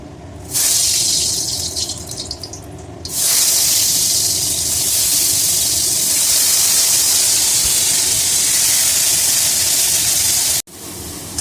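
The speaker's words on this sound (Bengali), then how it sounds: "আমি এখানে তেল গরম করে নিয়েছি। এরপর এখানে পেঁয়াজ বাটাটা দিয়ে দেবো।" Onion paste hits hot oil and erupts into a loud, steady sizzle that jumps even stronger after a few seconds and runs on unbroken, a close, hissing fry for chicken butter masala.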